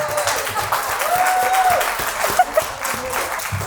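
A crowd applauds at a motivational talk on career advancement, with steady moderately loud clapping throughout, a few brief whistles or cheers rising above it, and no talking.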